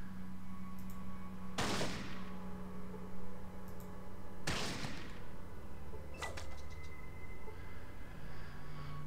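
Pistol shots from the Fallout 1 video game: two sharp, loud cracks a few seconds apart, each with a brief ringing tail, followed by a fainter click-like impact, over a steady low game hum.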